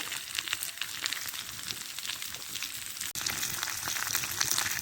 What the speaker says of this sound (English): that's all the potatoes and the veg and that. So you can hear that sizzling.